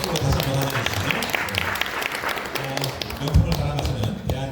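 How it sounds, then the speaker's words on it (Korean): Audience applause welcoming a speaker at an office opening ceremony, a steady, fairly loud wash of clapping across the whole stretch with some tapping mixed in. "박수로 다시 한번 환영해 주시죠"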